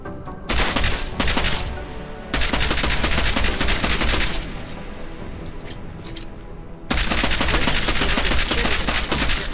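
Rapid bursts of gunfire on a shooting range in the video game Deus Ex: Mankind Divided, loud, dense automatic volleys with a short lull near the middle before heavy firing resumes.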